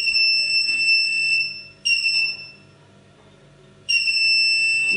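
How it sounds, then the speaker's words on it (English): A CCTV DVR emits high, electronic beeps once the camera connection is made, three bright tones in an irregular pattern heard close and clear over a faint room hum, with no talking. "You'll also hear a certain beep noise when the connection is on."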